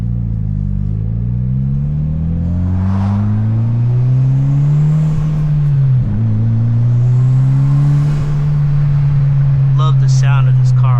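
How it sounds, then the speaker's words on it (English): A Mitsubishi Evo X making 450 wheel horsepower accelerates through the gears, its loud, close engine rising in pitch, dropping at a shift, then climbing again, with turbo whooshes and a brief chirp near the end. "Love the sound of this car, bro."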